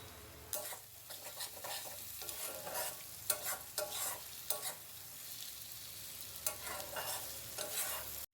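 Tomato paste fries in a pan under a quiet, steady sizzle, while a spoon scrapes and stirs in repeated bursts, close by and with no talking.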